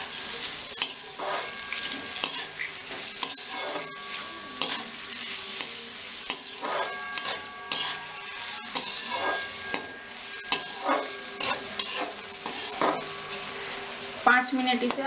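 Vegetables with cashews and raisins being stirred in a hot frying pan for veg pulao, with a steady sizzle and repeated scraping strokes of the spoon, close and clear, with no talk.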